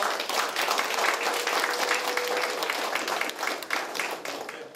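A seated audience at a policy forum on social welfare services for people with psychiatric disabilities breaks into warm applause, a dense, even patter of many hands that holds steady and then thins slightly toward the end, with no voices.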